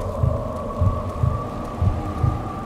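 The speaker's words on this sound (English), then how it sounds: "Why is my heart beating so fast?" Heartbeat sound effect in the horror video game Kuon, five slow, evenly spaced low thuds over a steady droning hum, with no talking.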